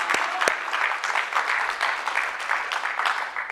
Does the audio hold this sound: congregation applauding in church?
yes